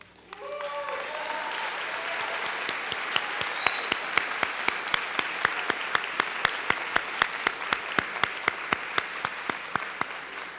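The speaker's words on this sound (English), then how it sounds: "We'll give you a round of applause." A high school graduation audience applauds students who spent ten years at the school. After a brief spoken start, the clapping builds, and a sharp rhythmic clap stands out above the crowd's steady applause.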